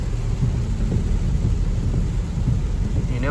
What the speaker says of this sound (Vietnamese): Mưa quá.